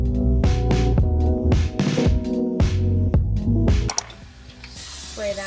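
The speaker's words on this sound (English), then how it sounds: "we are going to spray this with some olive oil spray" Olive oil cooking spray is misted over a tortilla tostada headed for the air fryer, a steady hiss of about a second and a half that arrives near the end, under louder music.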